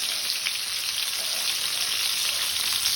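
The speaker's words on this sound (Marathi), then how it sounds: "रवो लावून घेतल्या ती कालवां घालुया। कालवां परतून घेऊया।" Semolina-coated oysters fry in hot oil in a pan, giving a steady, dense, close sizzle with fine crackling that keeps going the whole time, with no voices.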